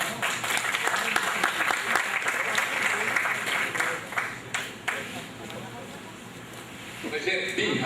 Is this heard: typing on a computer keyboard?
no